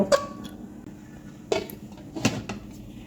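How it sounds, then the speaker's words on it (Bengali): Clattering of a spoon against a cooking pan with fish in spice masala, then a lid set down on it: three separate knocks and clinks, moderately close, with quiet between them and no talk. "একটু নেড়ে চেড়ে দিয়ে ঢাকনা দিয়ে দেব"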